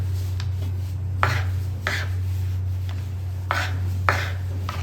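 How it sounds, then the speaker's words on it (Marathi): Leftover idli being cut into small pieces on a board, a few soft, sparse knife chops spaced about a second apart over a steady low hum, no talking. "या पद्धतीने तुम्हाला कट करून घ्यायची तुमची इडली."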